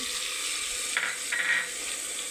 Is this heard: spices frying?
yes